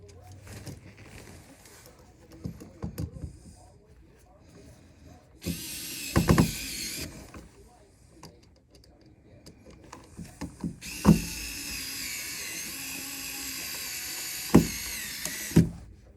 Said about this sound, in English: I love this little screwdriver.